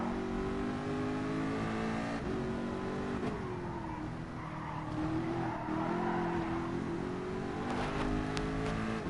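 Peugeot VGT race car in Gran Turismo racing, its engine holding a steady high-pitched whine with rising and falling revs, loud and continuous, with brief tyre-squeal touches and no talking.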